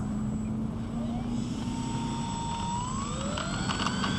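An E-flite P-51 Mustang RC plane with an 8x6 APC propeller, running on 2200 3-cell batteries, makes a steady whining drone whose pitch rises and falls as it passes.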